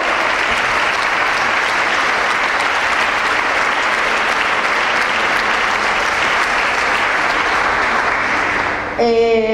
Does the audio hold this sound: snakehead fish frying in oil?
no